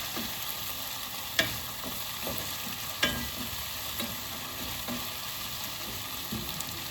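Sliced onions sauté in hot oil with salt, a constant soft frying hiss with occasional clicks and a couple of sharper knocks from a stirring spoon against the pan. No voices are heard.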